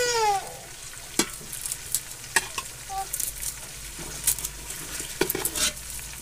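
Fried fish is lifted from a pan of ghee onto a plate. Oil sizzles steadily under scattered clinks and scrapes of a utensil against the pan and plate, with no talk.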